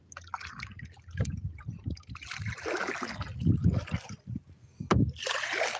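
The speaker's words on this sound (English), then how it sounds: "Gotta get this kayak moving here." Paddle strokes slosh and splash water as a kayak moves in a video game, a few irregular swishes at moderate loudness with someone talking over them.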